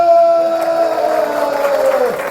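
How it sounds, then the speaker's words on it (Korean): A short burst of cheering and clapping comes from a crowd of civil servants at a humor leadership talk, lively and close for a couple of seconds. "박수 함성."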